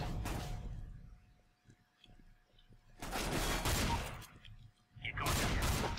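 Loud bursts of gunfire in Counter-Strike: Global Offensive come in three separated volleys, each a dense rattle of shots with quieter gaps of faint clicks and mechanical noise between them.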